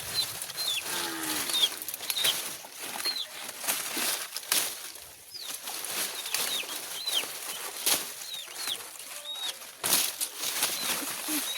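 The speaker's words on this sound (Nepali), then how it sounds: "चल्लाहरू चाहिँ कति मेरो पछि हिँड्या नि के।" Chicks and hens in a Nepali village yard, with repeated short high peeps scattered throughout, some soft wing flutters and a low cluck, all fairly close over a busy outdoor ambience; no speech.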